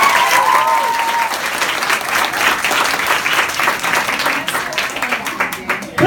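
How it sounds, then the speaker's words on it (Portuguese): Warm round of applause for a poet at a live poetry gathering, dense close clapping with crowd voices and a brief whistle-like tone early on, continuing steadily throughout. "Vamos receber o Douglas com a salva de palmas"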